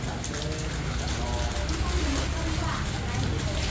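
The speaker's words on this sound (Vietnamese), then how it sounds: "Mưa to quá." Heavy rain pours down steadily and loudly throughout, a dense roar with people talking underneath.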